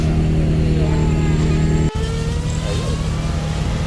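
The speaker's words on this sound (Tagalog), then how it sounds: "Engine niya is Beams from Alteza." A 1976 Toyota Corona Macho carrying a Beams engine from an Altezza revs loudly at close range, a steady heavy drone that cuts out for an instant and then carries on.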